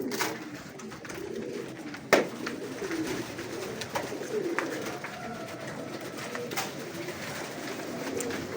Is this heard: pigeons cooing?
yes